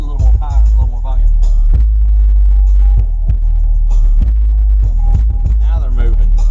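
Car audio subwoofers boom heavy, throbbing bass inside a vehicle after a new install, loud and continuous, with deep pulsing low end and music content above it.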